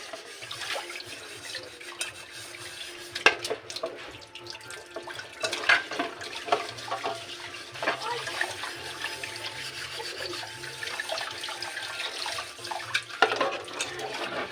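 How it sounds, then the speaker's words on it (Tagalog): Running tap water splashes into a kitchen sink while cooking pots and pans clank and scrape during washing, with irregular clatters over the steady flow. "ito ang isa sa pinakamahirap pag naghuhugas ng mga kaldero"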